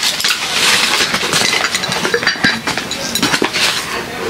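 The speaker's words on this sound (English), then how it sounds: "the straws are glass." Glass drinking straws clink and rattle against each other up close, in quick, irregular bright taps over a faint background hum.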